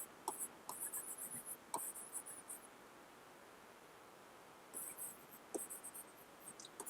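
A pen scratches across paper while someone writes down notes, quick clusters of close, crisp strokes separated by a quiet pause, with faint background hiss.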